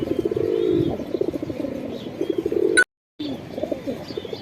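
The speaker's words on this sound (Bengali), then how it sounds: "এক জোড়া আনকমন কবুতর দেখাইলাম" A pair of Shahjahanpuri pigeons coo close by in repeated soft, throaty phrases, with a few faint chirps and a brief dropout of sound midway.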